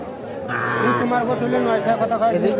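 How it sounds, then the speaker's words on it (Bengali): Calves at a cattle market, a loud nearby moo rising out of a busy crowd of chattering voices. "আর যেখানে ছোট ছোট বাছুর কেনা বেচা হচ্ছে আমরা সে জায়গায় রয়েছি"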